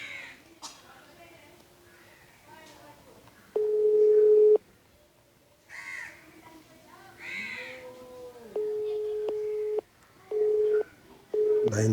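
A telephone busy tone, a steady repeated beep in bursts of about a second, sounding from a handset between stretches of Tamil speech and a crow calling nearby, as a call fails to connect during flooding in Sri Lanka.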